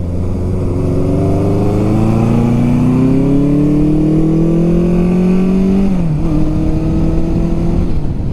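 A Honda CB750 Supersport F motorcycle engine while riding, loud and steady as it climbs smoothly in pitch through a gear, dips briefly at a shift, then pulls on again.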